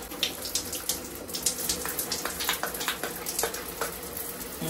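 Tap water runs steadily and splashes through a lotion bottle pump being rinsed out, making a close, continuous spattering stream with quick irregular bubbling gurgles and no talk.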